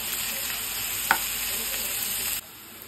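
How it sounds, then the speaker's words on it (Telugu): Chopped onions frying in a pan make a constant close hiss with a single sharp clink partway through, ending in a sudden drop to a quieter background. "ఉల్లిపాయ ముక్కలు, ఉల్లిపాయలన్నీ వేసేసాక ఒక 5 మినిట్స్ వేగనిద్దామండి బాగా"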